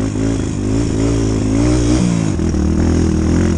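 Kawasaki KLX140G enduro motorcycle with a 63mm bore kit and a suspected carburetor or spark plug fault revving loudly up close, a buzzy engine note rising and dipping with uneven throttle blips.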